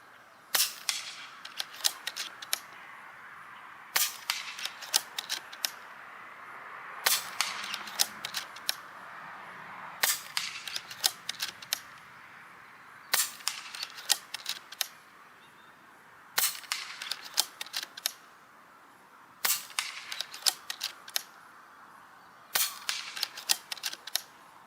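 An Umarex Notos G2 airgun firing a long string of sharp, close pops, spaced in regular groups of several quick shots with short pauses between, each with a mechanical clack.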